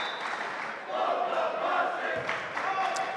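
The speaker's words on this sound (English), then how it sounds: "And now the crowd is being vocal out there." Vocal crowd at a boys varsity high school basketball game between Masconomet Regional and Beverly roars and shouts steadily in a gym, a sustained wall of cheering with a few sharper yells.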